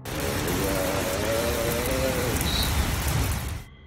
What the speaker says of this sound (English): her husband was wondering how hard it was raining at home